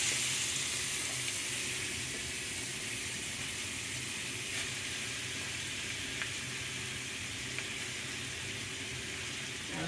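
Slices of red snapper frying in a pan, a constant, fairly quiet broadband sizzle and hiss that holds steady for the whole stretch with no talking.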